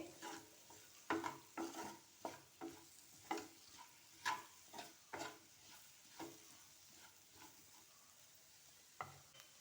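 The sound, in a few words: capsicum and green chilli frying in a pan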